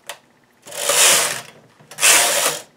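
A knitting machine carriage is pushed across the needle bed knitting decrease rows for a short-row diamond design, producing two loud, close rattling ratchet sweeps, each about a second long, preceded by a short click.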